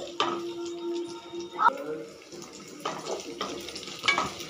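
Onions and cumin being stirred in a frying pan, with soft sizzling and several spatula scrapes and clinks coming in uneven bursts close by.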